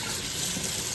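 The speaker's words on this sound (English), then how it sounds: "I just drain the water out and then go through and rinse it all off" Soaking water drains and rinses over freshly harvested garden vegetables, a steady, close, continuous rush of running water with no pauses.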